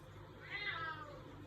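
Cat letting out a single faint, short meow indoors, heard once in the middle against quiet room noise.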